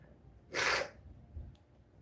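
A single sharp sneeze bursts out, short and fairly close, with quiet room noise around it.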